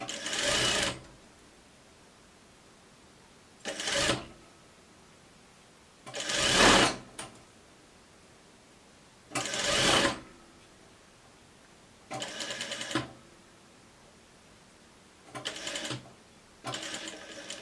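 A sewing machine stitches a shirt in several short bursts of rapid mechanical whirring, each a second or so long, separated by quiet pauses.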